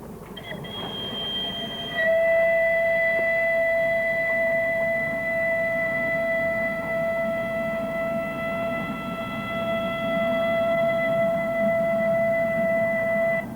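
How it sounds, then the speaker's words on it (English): A Hudswell Clarke steam locomotive runs on the Talyllyn Railway in Wales over worn track, giving a steady rolling rumble with sustained high wheel squeal that holds for over ten seconds. "Hague was built by Hudswell Clark, and despite her age, she still seems to be going strong."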